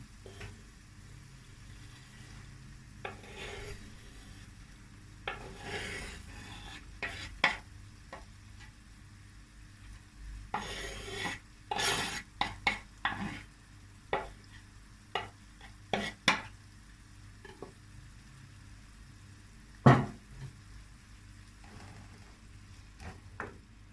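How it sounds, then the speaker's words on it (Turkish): Parsley stems and onion sauté in a pan for bulgur pilaf with a soft, steady sizzle, broken by irregular scrapes and knocks of a utensil stirring, one sharper clack near the end. "Şimdi doğramış olduğum maydanozun saplarını soğanla birlikte soteleyeceğim."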